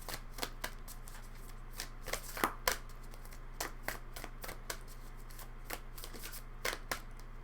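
Tarot cards are shuffled by hand up close, a run of crisp riffling slaps and flicks in an irregular rhythm against a quiet room hum.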